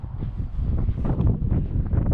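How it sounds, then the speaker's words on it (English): Strong wind buffets the microphone at a rest area in New Mexico, a loud steady low rumbling roar with gusty fluctuations throughout. "I'm kind of yelling because it's really windy"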